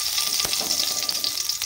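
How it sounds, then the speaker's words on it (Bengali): Two spoons of ghee heating in a kadai, sizzling and crackling steadily up close with a few sharp pops and light stirring scrapes, no talking. "এখানে আমি 2 চামচ ঘি দিয়ে দিলাম।"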